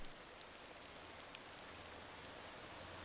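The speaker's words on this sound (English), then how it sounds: "Comes the rain again." Rain falls in the driving game Motor Town as a soft, even hiss with faint scattered drop ticks, low in level and steady throughout.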